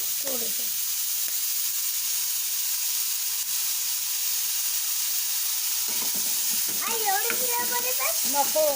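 Onion roasts in a hot pan while mum's kurma-puri is prepared, giving a steady, close sizzling hiss throughout, with a voice talking over the frying toward the end.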